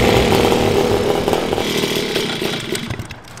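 A moped's small two-stroke engine running after an ignition system upgrade, a buzzing, chainsaw-like drone close by that gradually fades as the moped moves away.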